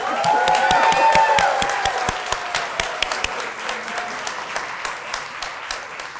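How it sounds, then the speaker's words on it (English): Crowd applause at an outdoor groundbreaking ceremony for a new performing arts center. Many hands clap loudly at first, then the clapping thins into a few scattered, distinct claps as it dies away. "Let's give them one more round of applause."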